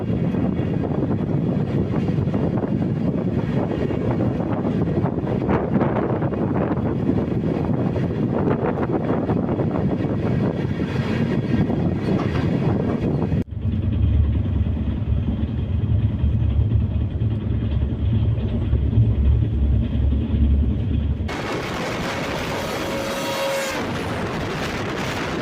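The Chennai–Shivamogga weekly express train running, heard from on board as a loud, continuous rushing roar with wind buffeting. Partway through it drops to a deeper, steady drone, then shifts again to a brighter hiss near the end.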